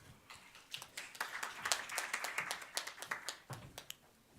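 A small audience gives a speaker a round of applause, with sparse individual hand claps, uneven and fairly close, from a modest group.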